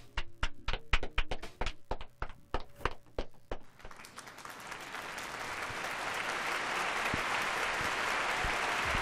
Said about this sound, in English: Let's give a clap to Big Butch.